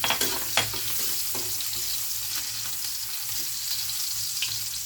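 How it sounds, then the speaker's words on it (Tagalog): Garlic sizzling and frying in hot cooking oil in a pan, a steady crackling hiss with a few sharper pops and stirring scrapes, close and loud with no talk. "Mainit na po ang ating oil, ang ating mantika. Ilagay na po natin ang ating bawang."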